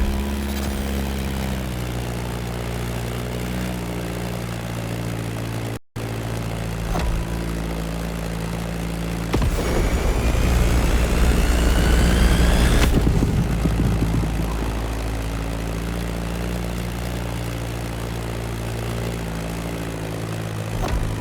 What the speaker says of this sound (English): That Beechcraft Stagger Wing is truly a beautiful piece, isn't it?